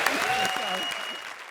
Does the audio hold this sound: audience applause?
yes